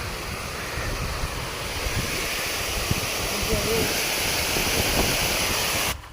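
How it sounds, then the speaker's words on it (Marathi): Strong wind blows outdoors by a forest stream during traditional fishing, a loud continuous roar buffeting the microphone for about six seconds, with the running water blended into the rush. "हवा खूप आहे ना आज हवा मारणा जी आहे"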